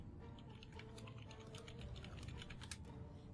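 Quick bursts of keystrokes on a new computer keyboard, fast irregular clicking close to the microphone at low overall volume, with no voice over it.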